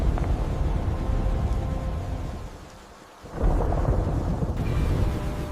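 A thunderstorm rumbles with heavy, steady rain, a long roll of thunder fading out midway before a fresh loud burst returns, continuing without any talk.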